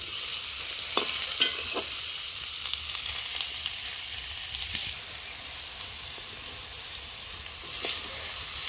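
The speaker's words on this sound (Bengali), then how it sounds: "এখন করছি হচ্ছে ডাটার চচ্চটি ডাটাটা দেখো ভাজা ভাজা হয়ে গেছে" Amaranth stems frying in a pan for a Bengali chorchori give a steady sizzle with occasional scraping stirs of a spatula, the hiss easing slightly partway through, with no talk.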